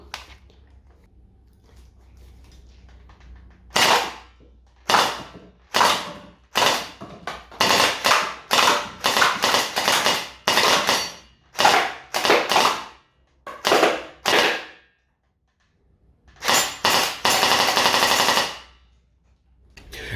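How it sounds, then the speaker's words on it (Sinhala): A toy rifle rated at about 160 to 170 FPS fires in a string of sharp, loud bursts of rapid shots, some short and some longer, separated by brief pauses, heard close by with no talking. "දැන් අපි ෂූට් කරලා බලමු කොහොමද මේකේ ෂූටිං පර්ෆෝමන්ස් කියලා."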